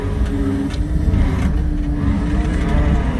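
An old John Deere road-cutting machine's engine runs as fuel is given, a loud, steady diesel rumble with a slight rise in revs and no talk.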